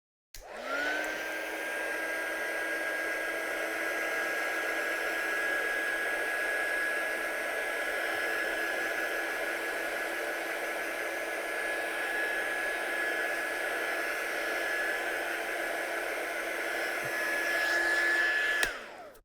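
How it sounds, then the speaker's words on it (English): A heat gun runs steadily for about nineteen seconds, drying spray ink on a handmade shaker card, giving a loud, close, constant blowing whoosh with a faint steady whine and no talking. "And just use my heat gun on this just to make sure that's actually fully dried."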